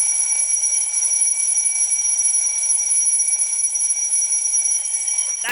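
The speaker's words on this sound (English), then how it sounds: "So I bought a classic Bell alarm clock." Cheap classic twin-bell alarm clock ringing loud and continuous, a steady bright metallic clatter with no pauses, cut off abruptly at the end.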